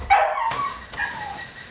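A three-month-old cloned puppy gives a sharp close yip, then softer whimpering barks trailing off over under two seconds.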